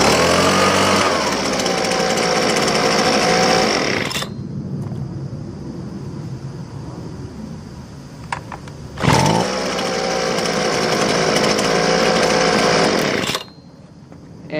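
A Husqvarna 125B leaf blower is pull-started and runs at a loud, steady roar for about three seconds, drops to a low idle, then is started again and roars steadily for roughly four more seconds before cutting back to idle.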